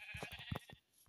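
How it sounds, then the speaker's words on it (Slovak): Minecraft sheep bleating in the game, a few short wavering bleats close together over game ambience, with a cow nearby in the same pastoral scene. "Aha, ovca."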